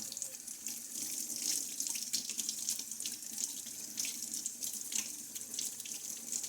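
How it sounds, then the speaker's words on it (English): Steady cold tap water running into a sink, a continuous bright hiss and splash with no talking, close and moderately loud. "Let that run under the cold water for just a few."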